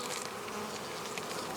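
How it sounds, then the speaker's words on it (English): Honey bees buzz densely around comb pulled from a swarm trap, a steady, close, unbroken hum with no voices. "Now I've got to get all these bees out of here and into this hive."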